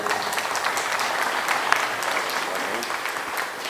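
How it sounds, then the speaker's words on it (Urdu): An audience at an All India Mushaira and award ceremony gives steady, even applause from start to finish, with no voices on top. "جناب احمد رضا صاحب، آپ زوردار تالیاں بجائیں."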